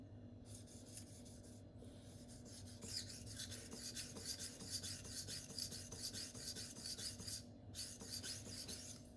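A knife is sharpened freehand on a 1000 grit whetstone, with steady rasping strokes repeating close to the microphone. Two brief pauses interrupt the quiet, even rhythm.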